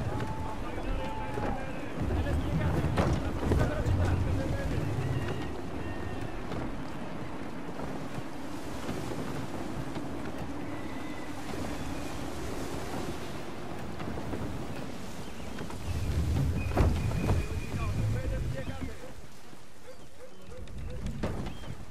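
Wind and creaking sailing ship at sea in Assassin's Creed III, with steady gusting wind, waves and periodic low rumbling swells, while voices talk over the sea noise.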